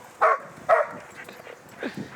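A reactive dog gives two sharp barks close by, followed by a softer whining yelp, with short pauses between each sound and no voices heard.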